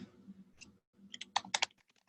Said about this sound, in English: Let me type this in for you.